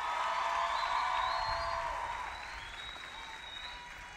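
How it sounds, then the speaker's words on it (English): Graduates at a university graduation ceremony in Trinidad and Tobago give a round of applause, a broad crowd clapping that starts full and then gradually fades and thins toward the end. "Give yourself a round of applause."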